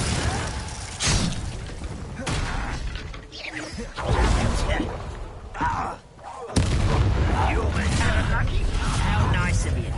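Repeated fire spell blasts in a wizarding action game, sharp bursts and booming impacts arriving in irregular succession amid battle effects, with a voice speaking between them.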